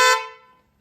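An aftermarket Hyundai Creta horn fitted to a Mahindra Thar Roxx gives one short, bright honk close by, cutting off quickly and ringing away into silence.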